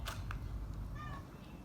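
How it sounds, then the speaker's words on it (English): A short, faint cat meow rises and falls once, partly buried under steady low background rumble. "That cat is crying for food."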